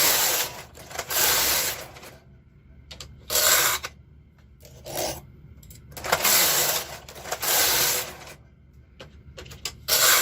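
A KR 260 ribber on a knitting machine knits drop stitch lace as the carriage is pushed across the bed in several loud mechanical passes, each a long rattling sweep with short clicks and quiet gaps between.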